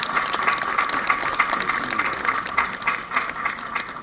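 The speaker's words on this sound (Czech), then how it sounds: "zatleskejte, ano, děkuji." Audience applause at a trumpet competition in Pelhřimov, a steady dense patter of many hands clapping continuously.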